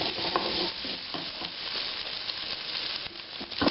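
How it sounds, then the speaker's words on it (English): Meat sears and browns in a hot pan for Creole white beans, a steady close sizzle with occasional scraping and stirring knocks, no talk. "just to sear this stuff off, browning on the outside"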